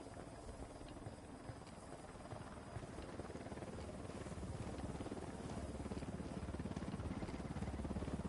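A video-game helicopter drones steadily with a low rotor rumble and engine whine, growing slightly louder as it approaches, faint overall and without voices.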